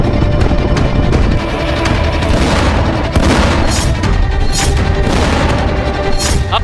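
Bombing explosions in a wartime news report on US strikes on Iranian nuclear sites, heard as a dense, continuous roar of booms and crashes with several sharper bursts, loud throughout and without any talking.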